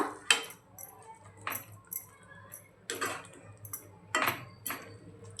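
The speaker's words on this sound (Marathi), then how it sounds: "आता आपण पनीरचे क्यूब घालून घेऊया। छान मिक्स करूया।" Paneer cubes are stirred into a masala gravy in a pan, with a spoon scraping and clinking against the metal in several distinct, close bursts over a faint steady background hum.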